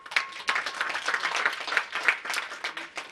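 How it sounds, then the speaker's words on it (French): Audience applause at a 25th-anniversary solidarity event, a steady wash of many hands clapping with sharp individual claps poking through, sustained and fairly close throughout. "Je vous demande de les applaudir aussi."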